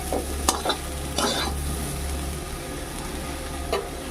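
Chilli and turmeric frying in mustard paste, a steady close sizzle broken by several scraping stirs of a spatula in the pan.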